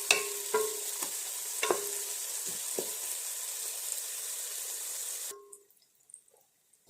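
Onions sizzle steadily in a hot pan with occasional stirring scrapes and clinks, a continuous close hiss that cuts off near the end, leaving near silence with a few faint knocks.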